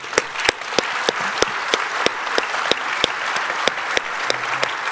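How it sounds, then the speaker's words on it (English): Steady conference audience applause at the closing keynote, a dense wash of many hands with sharp individual claps standing out, loud and even for the whole stretch with no talking over it. "a huge round of applause to our speakers and sponsors who have helped make this event happen."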